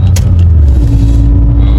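Car engine with a leaking ESO spin part, running with a steady, loud low rumble and a faint hum throughout, sounding uneven and off.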